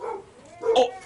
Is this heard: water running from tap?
no